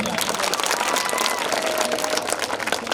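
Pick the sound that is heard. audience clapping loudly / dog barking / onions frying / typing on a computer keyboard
audience clapping loudly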